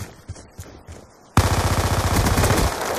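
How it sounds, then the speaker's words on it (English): Rapid automatic gunfire from a first-person shooter video game, quiet scattered shots giving way to a loud, sustained burst of rattling fire up close. "I hear bullets"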